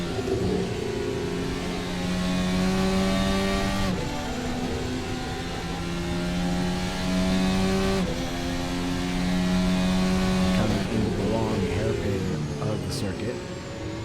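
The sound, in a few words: Ferrari F1 car engine onboard, Assetto Corsa video game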